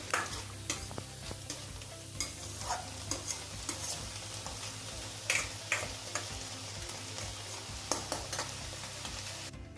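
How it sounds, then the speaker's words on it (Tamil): Two red chillies sautéed in a pan for mint chutney, a soft continuous sizzle broken by regular scraping and tapping strokes of a spatula against the metal, close but fairly quiet. "இப்போ நம்ம வந்து ரெட் சில்லிஸ் போட்டு வதக்கி ஒரு 4 மினிட்ஸ் ஆயிடுச்சு"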